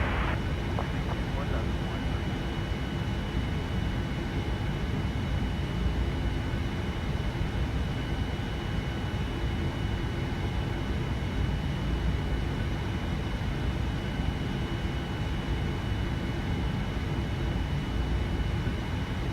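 A Boeing 787-9 jet airliner taking off from runway 24L at Los Angeles, a constant loud broadband engine roar that holds steady throughout, with voices talking over it.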